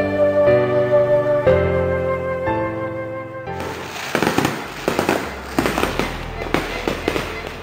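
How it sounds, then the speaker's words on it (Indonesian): New Year fireworks go off in a rapid series of sharp, loud bursts and crackles after a stretch of sustained musical tones. "Seiring dengan gelegar kembang api pergantian tahun"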